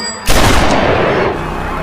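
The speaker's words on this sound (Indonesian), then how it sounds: "Lee pun menembak sebanyak 3 kali" A sudden loud gunshot boom erupts after a short quiet lead-in, followed by a long rolling echoing tail that slowly fades; no separate second or third shot stands out.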